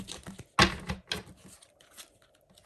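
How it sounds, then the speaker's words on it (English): Tarot cards are shuffled quickly by hand in short crisp bursts: a sharp riffle, a few lighter flutters, then a final snap, close up with quiet gaps between. "So I'm going to shuffle really quick."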